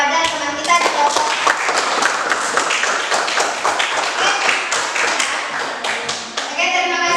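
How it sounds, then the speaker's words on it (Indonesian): Dense applause from a classroom of students clapping together for a presenting group, steady and lively throughout, with a few brief dips and no talk over it. "beri aplaus kepada teman kita di kelompok"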